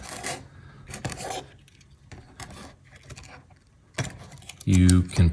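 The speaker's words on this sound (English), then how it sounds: "you can pry the whole thing open" Scraping, clicking and rubbing of a plastic Toto S500e/S550e bidet remote control casing being pried open by hand, in short irregular bursts up close, ending with a louder grinding crack.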